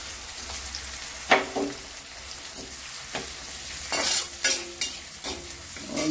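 Chopped onions sizzle steadily in hot oil in a pan while a spoon scrapes and stirs them in several short, clattering strokes, heard close up with no voices, during the making of a kabuli chana chole.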